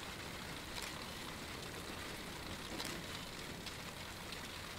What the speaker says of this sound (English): I don't care if it's hailing.